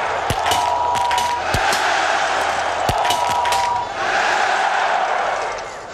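A large biathlon stadium crowd at the 2013 IBU World Championships lets out a sustained, dense groan after a missed shot, with sharp rifle-like clicks and cracks popping through the steady wash of voices.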